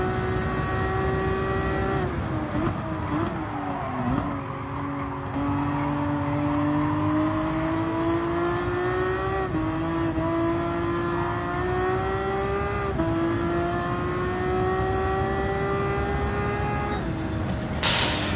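A Porsche race car engine in Gran Turismo 7 holds a steady high-pitched whine with rich harmonics, climbing and dipping slightly through gear changes as the car runs the old Monza circuit, loud and continuous with no talk.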